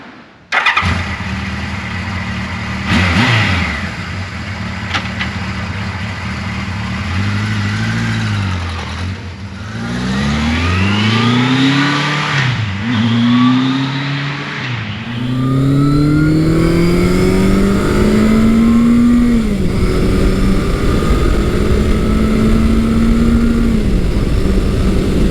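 A 1979 Kawasaki KZ1000 ST motorcycle starts up and rides out onto the open road. Its engine revs and drops through repeated gear changes, then holds a loud, steady cruising drone with wind rushing past.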